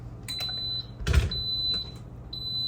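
A microwave oven timer sounds steady high electronic beeps in a kitchen, with a short burst of nearby clatter in the middle and quiet room noise between the tones.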